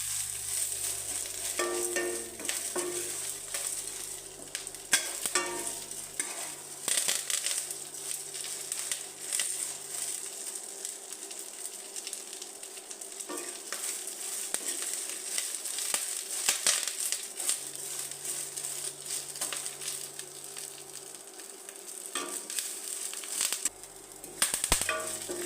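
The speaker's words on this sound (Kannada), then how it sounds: "ನೋಡಿ ಕರಿಬೇವೆಲ್ಲ ಪಟ ಪಟ ಅಂತಿದೆ." Curry leaves and toor dal crackling in hot oil, a dense stream of close pops and spatters with occasional stirring scrapes, continuous and unspoken over.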